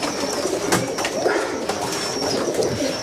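Pigeons coo softly in repeated low, throaty calls among a bird breeder's flock, with a faint background hiss and no talking.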